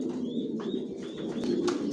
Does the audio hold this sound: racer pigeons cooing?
yes